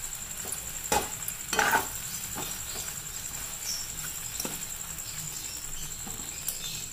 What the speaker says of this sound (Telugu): టమాటా సాస్ వేసి మిక్స్ చేసుకోవాలి.